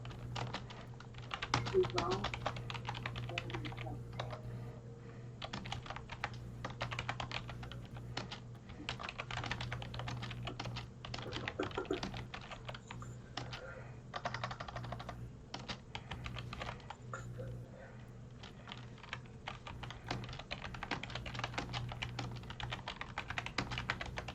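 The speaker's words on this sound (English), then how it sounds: "He's just aggressively typing." Rapid, forceful typing on a computer keyboard clatters almost without pause, in dense bursts of sharp clicks close to the microphone over a low steady hum.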